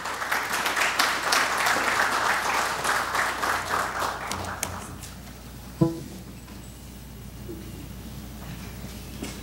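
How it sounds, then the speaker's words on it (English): An audience at a business session applauds to welcome a speaker, with dense clapping that fades out after about five seconds, followed by quiet room tone and a single sharp knock. "with a big round of applause, let us welcome Mr. Kageyama-san."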